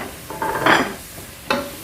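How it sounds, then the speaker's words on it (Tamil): Mushrooms tipped into a pan for a Muslim-style mushroom biryani, with a short clatter and stirring scrape over a light sizzle, then a second sharp utensil knock near the end, close and fairly loud, with no speech. "இதோட நான் இந்த எல்லா மஷ்ரூமையும் ஆட் பண்ணுறேன்."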